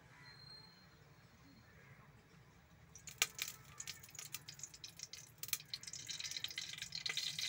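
Oil is poured into a pan for chana masala, a soft, hissing trickle that starts about halfway through after a quiet stretch and continues with small crackly drips to the end, faint and close, with no talking.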